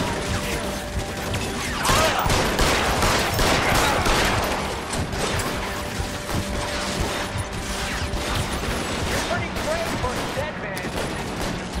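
Rapid bursts of gunfire from an enemy shooter in L.A. Noire, dense overlapping shots with mechanical clatter, loud and continuous throughout.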